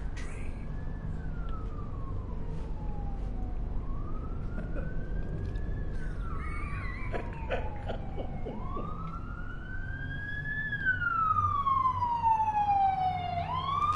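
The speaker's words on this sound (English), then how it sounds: "fucking sirens, ruining everything" Wailing sirens in the video game Bloodborne, several overlapping rising-and-falling tones sweeping slowly over a steady low rumble, growing stronger and sharper toward the end.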